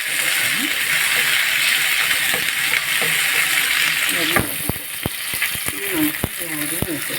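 Sliced onion and curry leaves frying in hot oil with mustard seeds for beetroot thoran, a constant loud sizzle with scattered spatters and stirring clinks, a voice talking faintly underneath.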